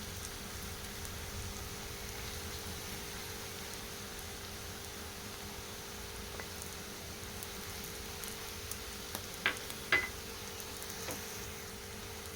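Bitter gourd and onion pieces frying in a pan, a faint, steady sizzle and crackle throughout, with a few soft clicks near the end.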